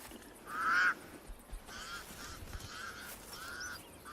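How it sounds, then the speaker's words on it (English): Pied crows give alarm calls, with a few harsh honking caws spaced over several seconds. The loudest comes first and fainter ones follow against a quiet, hissy background. "The pied crows sound the alarm again."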